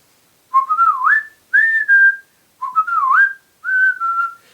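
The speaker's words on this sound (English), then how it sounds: "I decided I would whistle the chorus of the song." A person whistles the chorus of a song, four clear melodic phrases with gliding pitches separated by short pauses, close and loud against silence.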